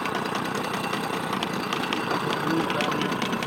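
A reliable, latest-model outboard boat motor started by pull cord hums steadily and close in the middle of Central Africa, a continuous droning engine with a voice talking over it.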